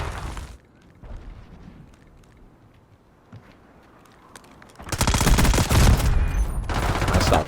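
Gunfire in Call of Duty, a brief burst at the start, then a quiet stretch before a loud sustained volley of rapid shots fills the last few seconds.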